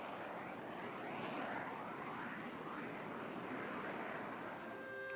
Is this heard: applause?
no